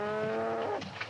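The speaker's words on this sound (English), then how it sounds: "did they just murder a cow in the background?" A cow moos in the background of a western film scene, one drawn-out tonal low call with a rich harmonic bellow that fades out at the end.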